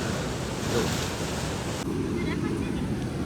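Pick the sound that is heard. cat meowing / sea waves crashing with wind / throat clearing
sea waves crashing with wind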